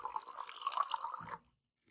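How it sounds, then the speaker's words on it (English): Water streams from the spigot of an Alexa Pure gravity water purifier, a steady close trickle and splash lasting over a second before cutting off abruptly. "You can either push down on it, water comes out"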